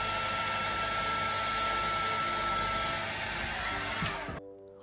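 A hair dryer blows steadily while drying a man's hair into a 90s-style cut with the nape raised, loud and close in a continuous roar that cuts off near the end.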